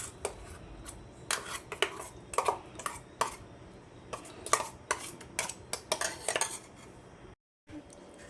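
Ground raw-mango dal mixture being scooped into a bowl, with bowls and steel utensils clattering in a quick run of close, sharp clinks and knocks, then a brief silence near the end and no speech.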